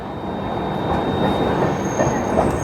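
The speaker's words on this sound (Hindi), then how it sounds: "ये जा रही है दिल्ली आजमगढ़ कैफियत एक्सप्रेस गई।" Delhi–Azamgarh Kaifiyat Express rumbling past at close range, a steady loud roar of wheels and wagons with faint rail clatter and squeal throughout.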